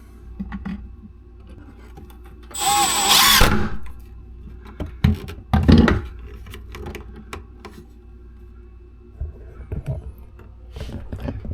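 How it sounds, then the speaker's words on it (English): A power drill drives a screw into a closet rod bracket in a holiday home build in Tennessee, one short loud whirring burst with a few softer clicks and knocks afterward, no talking. "And we'll get a screw put in there."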